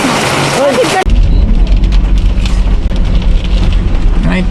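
Heavy rain suddenly pours down in a dense, loud, continuous roar, beginning after a second of busier outdoor noise, with occasional muffled thumps under the downpour.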